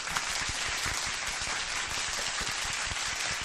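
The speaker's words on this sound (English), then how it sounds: "A round of applause to everyone that drops those donations out there." Steady, dense applause from a crowd continues evenly for the full length, with no voices over it.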